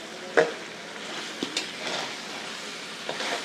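Spiced broiler chicken being stirred while it fries for a bhuna curry, giving a soft steady sizzle with a few sharper scrapes of the spoon against the pan, up close and without talk.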